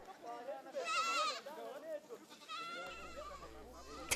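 Goats at a seminary in the Mbarara region of Uganda bleat in wavering calls, one prominent cry early and more trailing after, mixed with people talking nearby.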